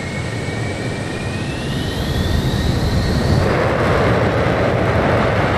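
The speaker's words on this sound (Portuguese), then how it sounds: "Pós-combustor." Roaring Concorde jet engines with afterburner during takeoff from London Heathrow in Microsoft Flight Simulator 2020, a loud, continuous broadband rumble with a rising whine that swells and thickens partway through.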